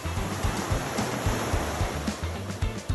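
Sea waves at the CaySubic beach resort, a steady broadband wash of surf with a low rhythmic rumble, continuous and fairly loud, with no voices over it.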